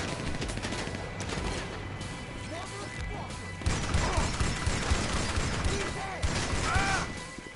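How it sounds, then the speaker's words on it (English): Shotgun blasts and gun clatter from a GTA Online firefight come in heavy bursts over dense game noise. Sharp louder hits land around the middle and near the end, and a voice talks faintly underneath. "fucking dickhead here with a shotgun, watch. He's got the same shotgun I got."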